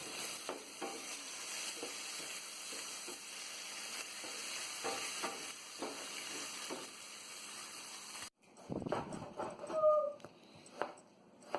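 Bitter gourd curry with ginger garlic paste sizzling steadily in a pan while it is stirred, with soft scrapes, followed by a brief break and a few louder clattering stirs near the end.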